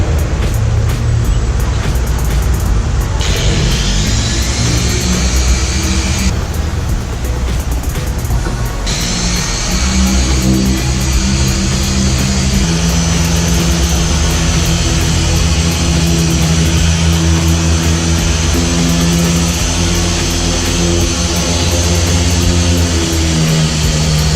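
Rotary car polisher buffing the paint of a Nissan Navara with a medium foam pad and S20 black polish: a loud, continuous motor drone with shifting pitch as the pad works across the panels, no speech.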